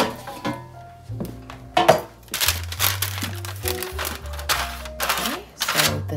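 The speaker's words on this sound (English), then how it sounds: "then place your parchment in before you put your cookie dough inside." Parchment paper liner crinkling and rustling as it is pressed into a preheated air fryer basket, close and fairly loud, in uneven crackling bursts with some clicks and light knocks of the basket.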